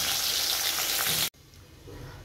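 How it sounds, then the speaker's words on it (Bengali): Fish fries in a pan with a loud, close, crackling sizzle that cuts off abruptly partway through, and a quieter sizzle then resumes. "এদিকে মাছ ভাজাটা বসিয়ে দিচ্ছি"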